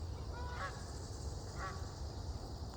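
Canada goose honking twice, a pair of clear nasal honks spaced about a second apart, moderately distant over a steady low background rumble.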